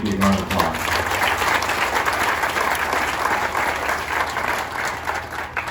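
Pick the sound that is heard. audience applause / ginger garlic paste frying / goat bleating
audience applause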